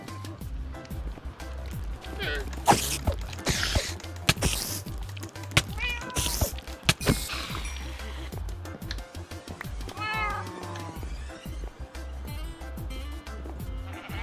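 Several Minecraft cats meow and caterwaul in repeated bursts with game thumps and footsteps between, while someone talks over them in Portuguese.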